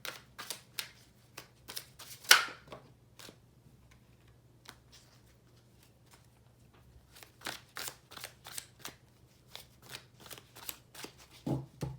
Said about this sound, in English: once I finish shuffling them